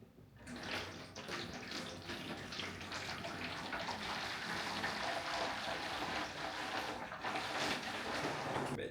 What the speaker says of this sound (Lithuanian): Reikia pribubit vandens į šitą